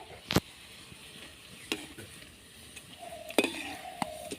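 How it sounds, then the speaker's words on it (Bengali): Potatoes sizzle softly in a pan while a spatula scrapes and stirs now and then with sharp clatters. No one speaks. "উল্টে পাল্টে খুব ভালোভাবে ভেজে নিতে হবে"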